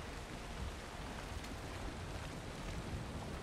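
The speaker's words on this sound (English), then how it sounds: "Oh, it's raining" Rain falls in Valheim as a steady, dense hiss mixed with gusting wind, faint and unbroken throughout with no voices.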